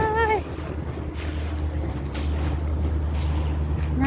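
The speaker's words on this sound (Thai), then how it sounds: "นั่งเรือเที่ยวรอบเกาะน่ะ" Sightseeing boat ride around an island at Savonlinna, Finland: steady engine drone with water wash and strong wind buffeting the microphone, a loud continuous rush with no talk.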